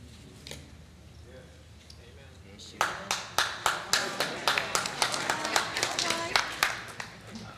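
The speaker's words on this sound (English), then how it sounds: "I don't know why you're clapping." A church congregation starts clapping in a steady rhythm, crisp regular claps near and fairly loud after a quieter stretch in which a voice is faintly heard.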